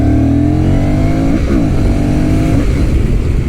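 A manual Honda Rebel 1100 motorcycle accelerates hard through the gears, its engine note climbing, dropping at a quick shift, then climbing again, loud and close with no talking.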